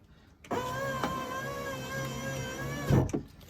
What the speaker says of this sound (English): window down, and window back up